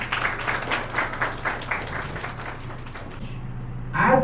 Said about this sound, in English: A big round of applause for all students and teachers.